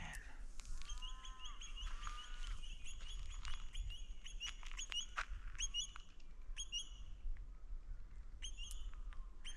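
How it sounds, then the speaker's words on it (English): Several birds chirp and sing in repeated bright bursts outdoors, with a steady low background rumble underneath. "Birds just singing away."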